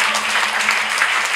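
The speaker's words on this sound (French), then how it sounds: "On vous applaudit, le Seigneur." A church congregation claps together during a French-language worship service. The applause is a dense, bright, fairly loud wash of many hands, close and sustained, with a faint hum underneath.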